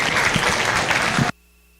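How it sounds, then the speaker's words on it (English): A crowd claps for junior exhibitors at a county fair livestock show, dense steady applause that cuts off abruptly after just over a second, leaving near silence. "Let's give them a nice round of applause."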